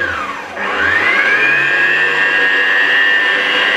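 A stand mixer runs at low speed kneading savarin dough with raisins, its motor whirring steadily and close after a brief dip at the start, with no talk over it.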